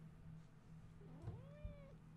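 A pet cat named Hawkeye gives a single rising, drawn-out meow close by, over a low steady indoor hum.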